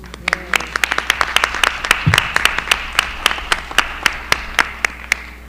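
Scattered claps from a small audience at a school board of education meeting, a sparse, fairly steady patter of distinct hand claps lasting several seconds, with a brief low voice partway through.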